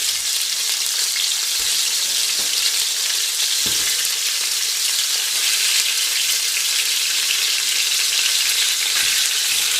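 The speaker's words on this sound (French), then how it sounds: "il ne nous reste plus qu'à faire revenir la viande" Beef pieces for boeuf bourguignon browning in a pan give off a steady, dense sizzle and crackle, heard close and continuous with a few soft clinks and no talk.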